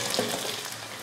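Vegetables sautéing in a pan for a kulambu give a steady, close sizzle, a dense even hiss that runs the full short moment with no voices.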